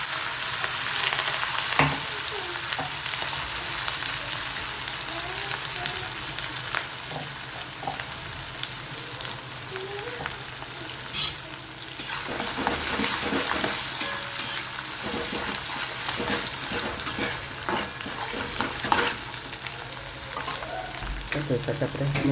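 Tempering of chillies, peanuts, fennel, sesame and curry leaves spluttering in peanut oil, a loud continuous sizzle with bursts of crackling and stirring scrapes, close up.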